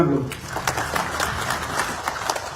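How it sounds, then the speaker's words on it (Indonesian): Audience applause at a groundbreaking ceremony for a southern ring road construction project, a steady wash of clapping filling the clip at moderate loudness, with a voice faintly audible underneath. "Tepuk tangan dulu."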